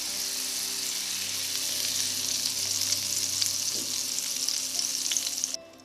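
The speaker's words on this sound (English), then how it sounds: "the pan is getting hot, so I'll be adding a small piece of butter. Also adding 2 tablespoons of oil." Butter and coconut oil sizzling in a hot pan while making chicken tikka masala, a close, steady crackling hiss with small pops, cut off sharply at the end.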